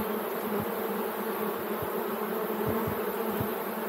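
A dense, continuous buzz of a honey bee swarm at beehives, loud and close, with individual bees droning past now and then.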